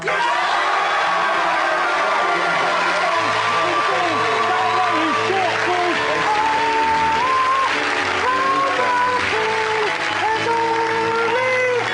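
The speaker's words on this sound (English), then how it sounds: "If you think Bryony Rumble is the tallest, applaud now." Studio audience applauding on a live TV chat show to cast a vote, with loud clapping mixed with whoops, cheers and shouting over a steady crowd roar for the whole stretch, with people talking throughout.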